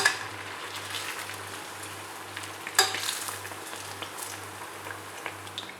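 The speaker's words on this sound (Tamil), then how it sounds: "நல்ல ப்ரௌன் ஆகிற வரைக்கும் ஃப்ரை பண்ணிக்கணும் 2 சைடும்" Sweet banana dough frying in hot oil until brown on both sides, puffing up as it cooks: a steady close sizzle and crackle runs throughout, with one louder clatter partway through and a few light pops, no speech.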